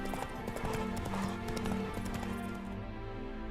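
Hoofbeats of the horse Roach galloping in The Witcher 3 video game, rapid rhythmic clip-clop close by over several seconds, with game music and ambience underneath.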